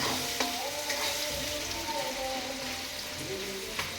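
Onions cook in hot oil with a loud, continuous sizzle up close while a spatula stirs them, adding occasional light clicks and scrapes against the pan, with no voices.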